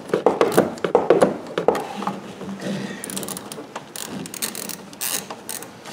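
A ratchet loosens a bolt on a car part, producing close, quick clicking runs in uneven bursts, with handling clatter and metallic knocks between strokes and no talk.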